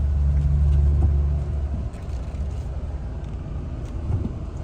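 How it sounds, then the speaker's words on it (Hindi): A Mahindra Thar 4x4 rumbles along off-road, its engine a loud, low drone at first that eases into a steadier rolling rumble with occasional bumps. "और थार जैसी गाड़ी का मजा देखो।"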